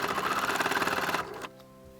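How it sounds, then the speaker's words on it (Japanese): A sewing machine stitches along the waist seam of a dress with a lace skirt, a fast close rattling run that slows and stops after about a second and a half. "ウエストは表から縫い目をなぞるように縫い付ける。"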